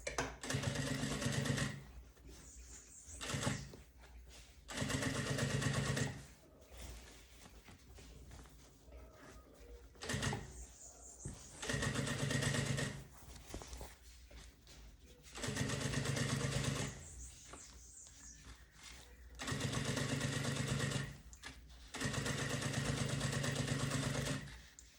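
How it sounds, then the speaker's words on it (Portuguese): A sewing machine stitches the side seams of a bag, running in several separate bursts of a few seconds each, including short reverse backstitch passes, with quiet pauses between runs. "E vai costurar aqui nas laterais também, fazendo a costura de segurança."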